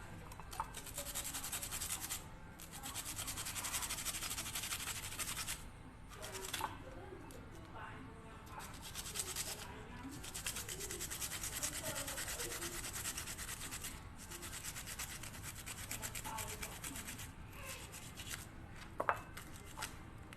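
A knife scraping garlic cloves, steady faint rasping and rubbing strokes repeated continuously at close range with a few small clicks.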